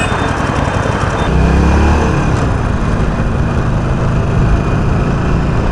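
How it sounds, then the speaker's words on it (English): A Harley-Davidson 48 with a 1200cc engine being ridden, its loud steady low rumble running continuously throughout with no voices. "This is the first time I'm riding a 1200cc bike, and yeah, it's too powerful."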